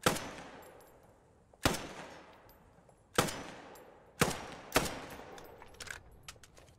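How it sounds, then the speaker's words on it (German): Gewehr 43 semi-automatic rifle fired in Post Scriptum: five sharp, loud single shots at irregular intervals, each cracking then trailing off in a reverberant tail, with no talking. "Das haben wir Gewehr 43, sozusagen der Nachfolger. Der schießt sich ein bisschen angenehmer."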